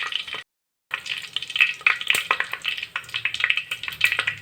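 Spices tempering in hot oil for a fish curry, a bright crackling sizzle with quick pops, close and fairly loud, after a brief silence at the start.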